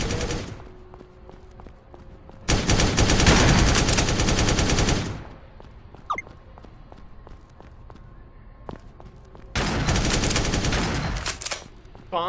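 Long, loud bursts of rapid automatic gunfire from a mobile shooting game, like BGMI or PUBG, come in two sustained volleys, with quieter game sounds and scattered single shots between them.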